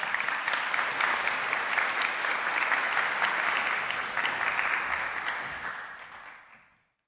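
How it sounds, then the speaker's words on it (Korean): An audience in a university chapel service applauds steadily and warmly for several seconds, a dense even clapping that fades out at the end. "다시 한번 우리 박수로 감사의 마음을 표현합시다."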